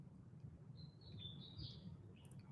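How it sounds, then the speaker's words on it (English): Faint, high bird chirps drift in the distance over a low steady rumble, a thin twittering line that rises and falls. "maybe you can hear the birds chirping more clearly"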